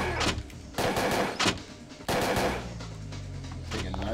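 M4A1 assault rifle fire in Parasite Eve 2, heard as loud automatic bursts with short pauses between them and a lingering low rumble.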